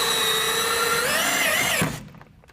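A power drill drives a screw into a shutter track, its whine climbing slightly in pitch before stopping abruptly near the end and leaving a brief quiet tail.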